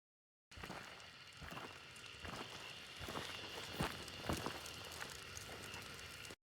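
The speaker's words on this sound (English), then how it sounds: "Right there, I hear the footstep and I like immediately lock onto it." Footsteps in the game Hunt: Showdown, faint irregular steps and thuds scattered over a noisy, crackling ambient background, fairly quiet and distant.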